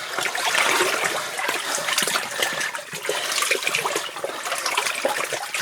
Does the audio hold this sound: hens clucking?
no